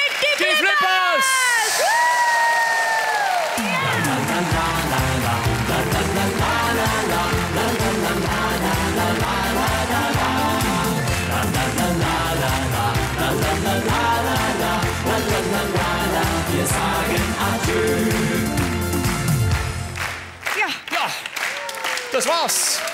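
A large audience roars with applause, cheers and whoops for a German schlager band, loud and sustained throughout, with music and a voice emerging beneath the crowd before it fades near the end.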